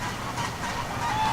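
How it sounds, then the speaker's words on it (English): Ducks and geese call from a park pond at a state historic park, a steady backdrop of honks and quacks at moderate distance with no talk over them. "You might hear that behind us, but that is the sound of some ducks and geese."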